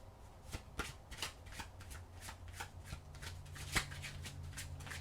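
Oracle cards are shuffled by hand in a quiet room, a quick series of soft riffling slaps and taps close by.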